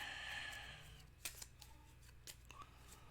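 Playing cards for the Pandemic board game being shuffled up close, a dense papery rustle that fades to softer scattered clicks and flicks, with no talking.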